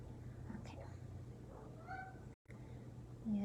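A house cat lets out a couple of short, faint meows over a steady low background hum, with no talking.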